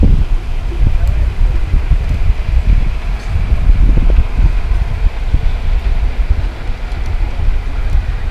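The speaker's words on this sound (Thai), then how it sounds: "ตอนนี้ลมแรงแล้วไม่แน่ใจว่าเพื่อนได้ยินหรือเปล่า" Strong wind gusts roar steadily by the Mae Klong River in Thailand, a loud low rumbling buffet across the microphone with brief surges and no clear voices.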